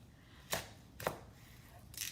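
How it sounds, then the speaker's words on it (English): A knife slices through a large onion on a board, giving three sharp, separate cutting thuds about half a second apart, close and fairly quiet, with no talk. "I have a large onion, and I'm just going to go ahead and cut this in half"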